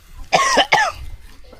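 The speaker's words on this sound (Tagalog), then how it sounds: "Ubo." Two quick, sharp coughs close by, one right after the other, followed by quiet room noise.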